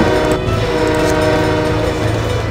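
Trains run through a city in the game Sim City 3000, a steady loud rumble of rail cars with a horn tone and faint clickety-clack throughout, heard alone without talk.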